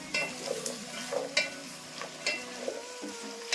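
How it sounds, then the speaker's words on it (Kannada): Potatoes and green peas frying in oil for a vegetable kurma, stirred in a pan with repeated close scraping strokes over a steady, soft sizzle. "ತರಕಾರಿಗಳು ಒಂದು 2 ನಿಮಿಷ ಎಣ್ಣೆಲೆ ಫ್ರೈ ಆಗಲಿ"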